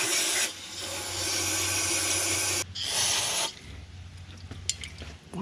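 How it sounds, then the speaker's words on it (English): Brake cleaner sprays onto worn car brake parts in long, loud aerosol hisses, two main bursts separated by a short pause, close up, then a quieter spell with small clicks. "Let's grab some brake cleaner and kind of spray it off real quick"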